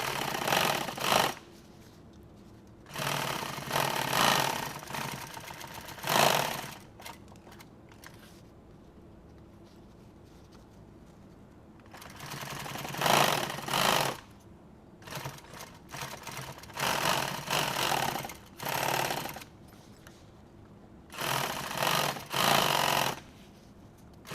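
A sewing machine runs several bursts of stitching through nylon on tactical gear, each burst lasting a few seconds, loud and close, separated by quiet pauses.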